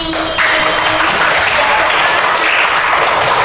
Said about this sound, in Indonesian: Nah, aplausnya sekali lagi.